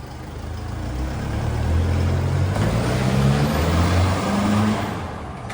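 A tuned Isuzu 4JJ3 diesel, DPF still fitted, with a 4-inch stainless DPF-back diff dump exhaust, pulls away under throttle: a loud, low droning engine note that rises and falls steadily for the whole stretch, with no voices.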